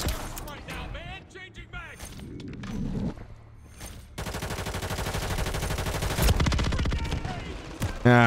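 Renetti pistol fire in Call of Duty: Modern Warfare 3, a run of sharp shots with rapid bursts and impacts among in-game effects, loud and close, with a voice talking over part of it.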